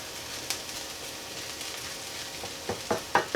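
Hash browns seasoned with garlic salt and pink Himalayan salt sizzle in a pan inside an RV, a steady soft frying hiss with a few sharper spatula clinks and taps toward the end.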